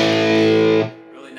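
A Chopper TL electric guitar played through its tone and volume settings, a sustained distorted chord ringing loudly with rich harmonics for under a second before cutting off abruptly.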